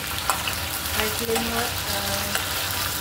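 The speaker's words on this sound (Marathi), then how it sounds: "आपण हाय फ्लेमवर भेंडी भाजून घेतलेले" Okra frying in a pan over a high flame, a steady close sizzle with occasional stirring scrapes, continuous for a few seconds with no talking.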